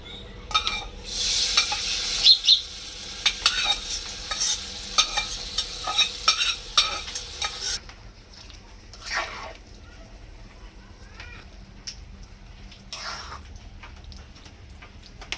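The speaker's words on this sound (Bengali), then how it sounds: "এবার আমের সাথে 5 ফোড়নটা দিয়ে দিব।" Green mango pieces frying with bay leaf and panch phoron, first hissing loudly with busy stirring, then settling to a quieter sizzle broken by occasional scrapes.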